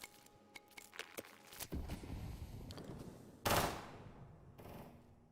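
Gunfire in a multiplayer shooter game, with scattered single shots and short bursts followed by a few louder blasts, some muffled and distant.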